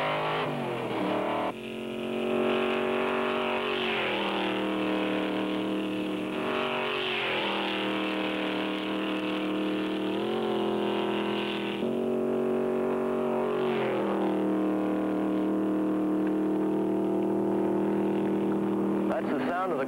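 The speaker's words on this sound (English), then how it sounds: "That's the sound of the quickest production sports car in the world today" A Shelby Cobra sports car's engine roars on a racetrack, loud and close. It gives a sustained raw drone with repeated rising revs and several gear changes.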